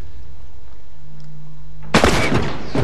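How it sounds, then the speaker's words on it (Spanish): A sudden burst of rapid gunfire in The Last of Us erupts after a quieter stretch, loud and dense, continuing to the end. "qué velocidad de disparo tiene Eli"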